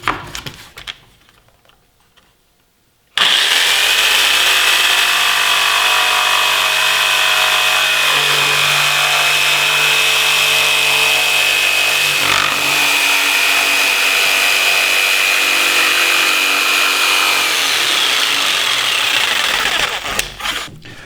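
An orbital jigsaw cuts a shape through a wood board, a loud steady buzzing whine that starts abruptly after a quiet lead-in and runs continuously to the end, alone without talk.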